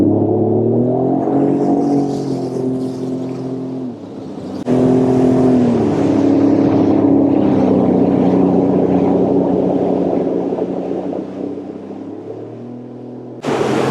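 A motorboat engine opens up hard on a lake in cottage country, a loud rising drone that surges again after a short dip and holds with wind and water rushing past.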